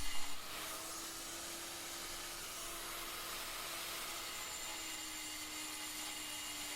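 A carbide lathe tool cuts unhardened steel from a farrier's rasp, fresh from the fire, giving a steady, continuous grinding hiss over a constant hum for the whole stretch, with no talking.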